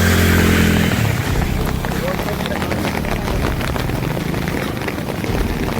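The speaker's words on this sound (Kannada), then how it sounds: "ಈ ಥರ ಆನೆಕಲ್ ನೋಡಿಲ್ಲ ನಾವು" Heavy rain mixed with hailstones pours down outdoors as a dense, loud, continuous hiss and patter, with people talking over it.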